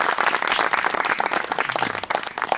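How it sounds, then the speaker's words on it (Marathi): Loud, dense applause from a crowd at a celebration marking a YouTube silver play button award, sustained clapping filling the whole stretch without pause. "त्यासाठी जोरदार टाळ्या झाल्या।"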